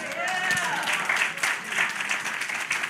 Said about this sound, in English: I'm going to see if I can say this and get anybody to agree by way of a hand clap